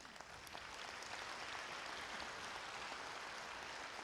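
Applause from the audience at a Lincoln Day political event sounds as a steady wash of clapping hands. It is fairly faint and swells slightly after the first half-second, then holds evenly.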